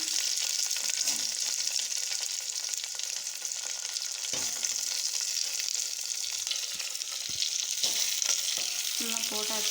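Bitter gourd sautéing in a clay pot for kuzhambu gives a steady, close sizzle that runs throughout, with occasional soft scrapes from light stirring.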